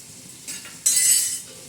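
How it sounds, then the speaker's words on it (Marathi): Chicken pulao with masala stirred in a pot, two short scraping clinks of a spoon against metal over a faint sizzle, close and brief. "आता हे चांगलं असं हलवून घ्यायचं"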